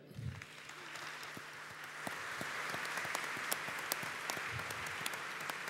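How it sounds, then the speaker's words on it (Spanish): An audience at a public science congress in Chile claps together for someone who fell on stage, a steady wash of many hands sustained from start to finish at moderate level, with no one speaking over it. "Un aplauso para él."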